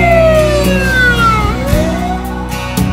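A loud wailing ambulance siren, Monoc MICU 6 Ambulance 206 responding, rising and falling in pitch, close by and continuous, with traffic rumble underneath.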